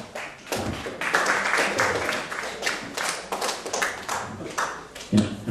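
A bar mitzvah party crowd claps for a volunteer at a hypnotist's show, uneven sparse clapping with separate sharp claps and thumps, a voice briefly heard among them.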